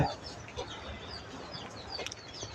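Hens cluck at an egg-laying poultry farm of about 550 birds, mostly hens with some roosters, a quiet, busy chatter of overlapping calls heard briefly at moderate distance.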